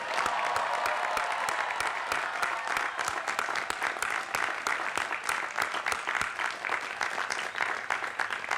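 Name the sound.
audience applause at commencement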